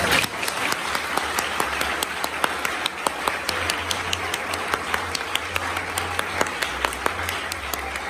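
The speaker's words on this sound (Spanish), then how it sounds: "Un fuerte aplauso al Señor." Congregation applauding at a church service, steady dense clapping with sharp individual claps standing out, sustained throughout with a low hum beneath.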